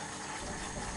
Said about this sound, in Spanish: Y el vino blanco. Para adentro.